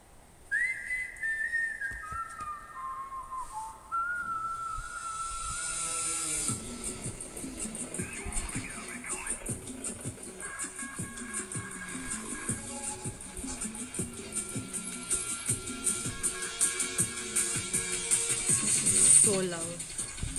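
An intro track from an album plays loudly and steadily, opening with a whistled melodic line before fuller beats and layered instrumentation enter and build toward the end.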